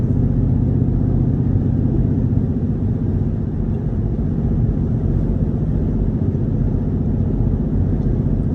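A straight-piped Jeep with raw, unmuffled exhaust drives along, its low engine rumble steady and close, holding a constant throaty drone with no talking.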